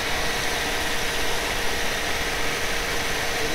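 Steady, low engine rumble idling without change, a continuous broadband hum with no voices over it.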